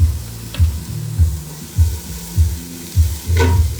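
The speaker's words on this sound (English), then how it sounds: "We're gonna get these sweating, sauteing." Onions sautéing in a pan for risotto give a steady sizzle, swelling with a few louder bursts as they are stirred, close and clear with no talking.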